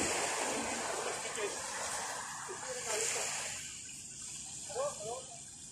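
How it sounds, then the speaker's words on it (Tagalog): Jet skis racing at an event on open water, a broad steady wash of engine and spray noise with surf in the background, a few brief splashes and voices rising over it near the end. "mga jet ski oh. Nagre-race sila."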